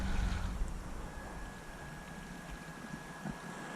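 A FEIYUE FY10 amphibious RC car churns across water with a continuous wet swishing wash and a thin steady motor whine. It opens with a louder splashy burst, then settles into a quieter, even run.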